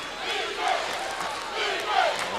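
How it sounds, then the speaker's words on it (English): A basketball crowd at a UAPB Golden Lions versus Alabama State game chants in a steady, swelling roar, a broad wash of many voices filling the arena. "And the crowd getting into it, chanting defense"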